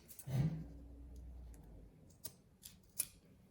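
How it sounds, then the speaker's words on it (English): Scissors trimming denim panel fabric while reworking a jeans garment, a few separate crisp snips and clicks spaced apart with a quiet room and a low rustle early on. "I actually have to trim them just a bit."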